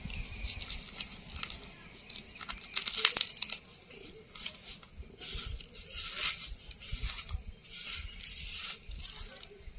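Bare hands mix a homemade chalta (elephant apple) pickle with salt, sugar and fresh green chilies, giving close, wet crushing and squishing with crinkly bursts in uneven pulses. A voice may be faintly present.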